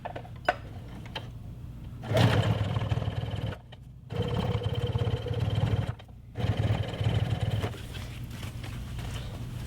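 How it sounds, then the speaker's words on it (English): A sewing machine stitching along the edge of quilt layers, running in steady buzzing bursts with short pauses between runs, close and clear. "it will stitch along the edge"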